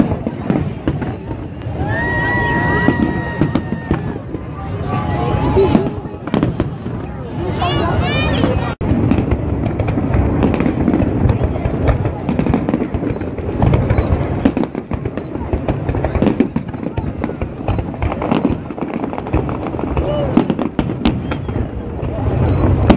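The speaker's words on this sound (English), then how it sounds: "Itong fireworks, habang nasa ilalim kami ng bubong." Fireworks pop and crackle continuously, heard from under a roof shelter, with wind buffeting the microphone, occasional whistling rockets, and people talking and calling out throughout.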